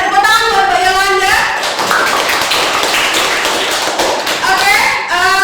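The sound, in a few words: applause for a presenter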